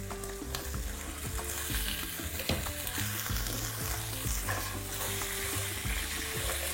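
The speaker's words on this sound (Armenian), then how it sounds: "և տապակում ենք պղպեղների հետ միասին" Sliced vegetables and peppers frying together in a pan, a dense steady sizzle with crackling pops and occasional stirring, close and continuous with no talk.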